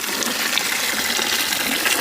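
Water pours into a pot for mutton biryani in a steady, close, gushing stream that holds constant loudness throughout, with no voices.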